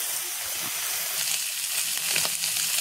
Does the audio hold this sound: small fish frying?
yes